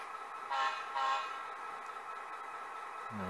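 A model railway locomotive on an On3 narrow-gauge layout gives two short, close horn-like toots over a steady low running hum, with no talking.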